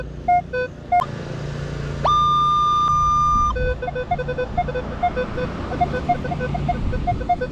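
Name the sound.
Minelab Equinox 800 metal detector beeping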